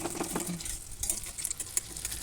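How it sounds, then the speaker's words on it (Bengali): Soft sizzling and hiss of vadas, lentil fritters for a drumstick curry, frying in hot oil with faint stirring scrapes, steady and close, with no voices. "বড়াগুলো লাল লাল করে ভেজে নেব।"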